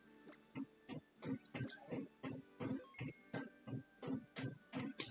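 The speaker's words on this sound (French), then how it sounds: "Imprimante qui vit, elle fait son travail. elle fait sa vie" An inkjet-style home printer runs and prints, giving a steady series of about a dozen rhythmic mechanical thumps and whirs, evenly spaced and close by, with no talking.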